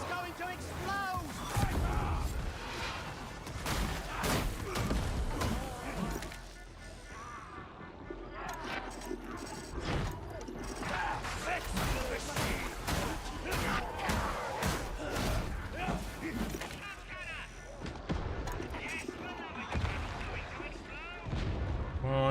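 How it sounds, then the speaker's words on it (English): A barrel explodes in Warhammer 40,000: Darktide amid dense, continuous battle noise, booming blasts and rapid gunfire layered with shouting voices and game chatter throughout. "The barrel! It's going to explode!"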